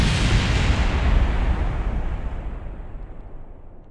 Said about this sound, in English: It's going to be a big explosion.